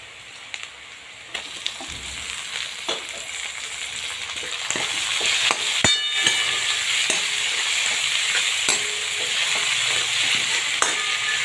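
Tomatoes added to onions frying in a pan for dal baati, with a steady sizzle under scattered stirring clicks and scrapes. The sizzling grows a little louder partway through.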